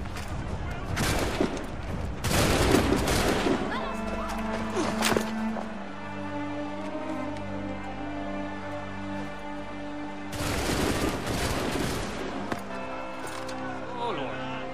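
A musket volley crackles in an Assassin's Creed III cutscene, two dense rattling bursts of many shots early on, then another volley near the end, with ringing echoes and voices between them.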